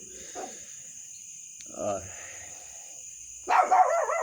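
A dog gives a few short barks spaced apart, fairly close, over a steady high-pitched electronic whine, with a person talking intermittently nearby.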